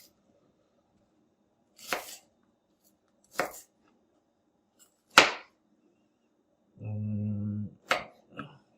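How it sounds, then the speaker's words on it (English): A knife chops through an onion on a board in four sharp, separated cuts, with a short buzzing noise in between, close and clear against a quiet room. "So all I'm doing is cutting my onion."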